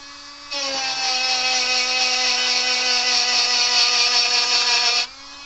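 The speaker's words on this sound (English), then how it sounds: "First we'll clean that solder joint up with the Dremel type tool." A Dremel-type rotary tool cleans a solder joint on a Gallagher M600 unit under repair, giving a steady high whine that runs evenly for about four and a half seconds before cutting off, close and fairly loud.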